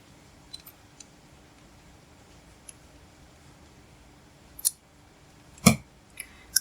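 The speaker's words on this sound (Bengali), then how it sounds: "এক্সট্রা সুতাটা কেটে দিচ্ছি।" Scissors snip off extra crochet thread in a few quick, close clicks near the end, after near silence with faint ticks.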